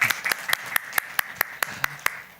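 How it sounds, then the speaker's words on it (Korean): A church congregation claps in a short burst of brisk, evenly spaced hand claps, fairly near, with no voices over it. "우리 박수합시다"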